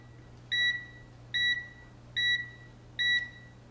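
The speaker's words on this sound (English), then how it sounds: "So our timer just went off." An Instant Pot pressure cooker's timer gives four clear electronic beeps, evenly spaced about a second apart. A low steady hum runs underneath in the kitchen.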